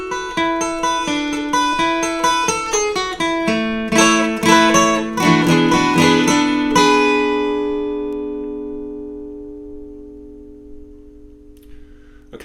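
Acoustic guitar with a capo picks a song's intro, a bright fingerpicked melody with slides, ending on a long ringing chord that slowly fades out, no voice over it.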